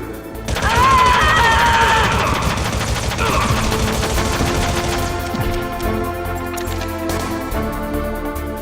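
Rapid gunfire from a SOCOM pistol in the Metal Gear Solid video game, loud and dense bursts running continuously through the whole stretch with a high ringing tone near the start.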